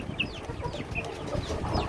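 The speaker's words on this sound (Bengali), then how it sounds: "এই বাচ্চা পাহাড়ি মোরগ মুরগি বাচ্চা আর এই হচ্ছে পাহাড়ি এটা মোরগ বাচ্চা" Hill chickens and chicks clucking and peeping close by, with soft, repeated high chirps over a busy farmyard background.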